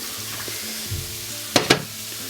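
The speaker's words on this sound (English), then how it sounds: "In with our garlic, all 10 cloves." Garlic cloves and onions frying together in a pan for lasagna, a steady low sizzle with a few brief louder scrapes of stirring near the end.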